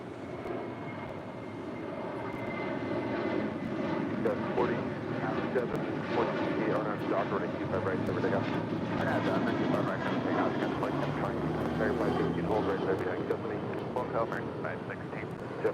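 Airliner jet engines at LAX airport, a loud continuous roar and rumble that builds and holds throughout, with voices talking over it.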